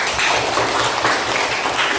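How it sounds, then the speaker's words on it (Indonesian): Brisk classroom applause, a dense burst of many hands clapping close by for about two seconds, no voices over it. "Oke, tepuk tangan."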